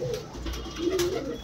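A heavy black male pigeon coos softly and low, a short throaty burble close by with faint background noise and no talk.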